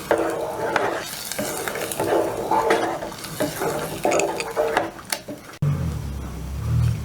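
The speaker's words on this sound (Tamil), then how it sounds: "நல்லா மிக்ஸ் பண்ணி விட்டுக்கலாம்." A spoon stirs buttermilk gravy in a cooking pot, giving repeated scraping and clinking strokes close by. The stirring stops abruptly near the end, leaving a low background hum.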